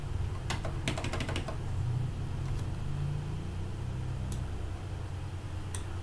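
Keystrokes for a Ctrl X, Y, Enter exit in the nano editor on a Proxmox VE 7.0 server, a burst of quick clicks early on and then a few isolated taps, alone over a steady low machine hum.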